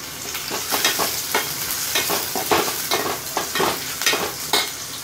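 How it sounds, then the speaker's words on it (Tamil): Onions, garlic and curry leaves sautéing in a pan for kara kuzhambu, a loud close sizzle broken by a rhythmic run of spatula strokes and scrapes, with no talking. "வெங்காயம் வதங்கட்டும்."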